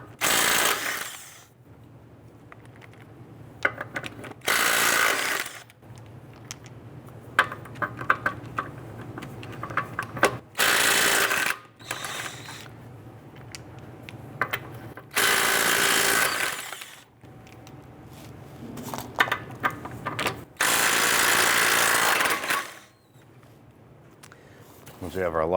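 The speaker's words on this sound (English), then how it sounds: "I'm going to loosen and remove our lug nuts." Lug nuts being loosened with a 21mm socket on a 2005-2010 Chrysler 300 front wheel, heard as several bursts of loud power-tool whirring and rattling separated by quieter stretches with speech and handling noise.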